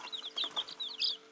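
Young chicks, including feathered-leg birds just growing wing feathers, peep in a quick run of high, thin calls, close and fairly soft, with no talking over them.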